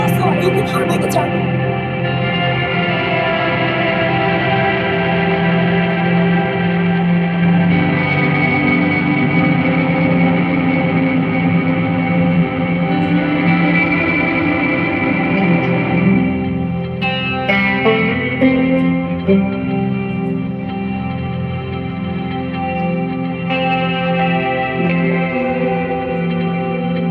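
Electric guitar run in parallel through a Walrus Audio Qi Etherealizer pedal, shown at NAMM 2025, giving a sustained shimmering reverb wash with layered chorus-like pads, steady and loud throughout with brief picked accents near the end.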